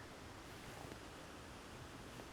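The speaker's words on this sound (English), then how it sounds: "Just the water flowing," Quiet, steady rush of a stream flowing among rocks in autumn woodland at Tollymore, a continuous even wash of sound heard from a short distance.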